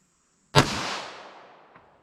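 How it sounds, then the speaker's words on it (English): A single loud gunshot from a full-size 9mm pistol firing Hornady Critical Defense Lite ammunition, a sharp crack followed by a long fading echo outdoors. "Let's see what we get with our full-size pistol and our Critical Defense Lite 9mm."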